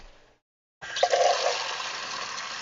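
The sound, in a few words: water being poured to fill a worm tank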